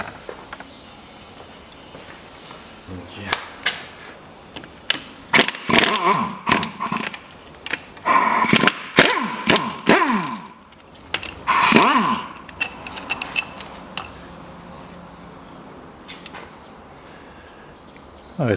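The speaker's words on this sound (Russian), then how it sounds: "чтобы снять вторую сторону, я сейчас откручу вот эту подушку" Ratchet wrench unscrewing an engine mount on a Volkswagen Passat B6 in a workshop: close, loud bursts of rapid metallic ratcheting clicks in several separate runs, broken by pauses and faint clanks.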